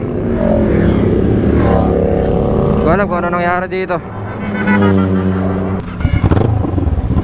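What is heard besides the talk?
motorcycle engine sputtering and stalling in a video game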